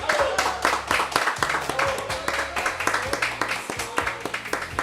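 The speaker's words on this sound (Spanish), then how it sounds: "Un aplauso." Church audience applauding for Pastor Eric Araya Lama, rhythmic clapping in steady beats mixed with loud music and a voice speaking over it.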